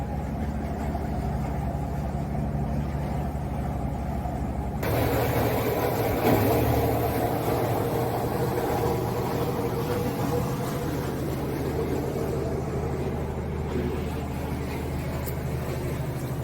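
Boat engine running steadily at 1500 rpm during life aboard in December, a constant low droning rumble with a louder shift partway through, heard from close by without speech.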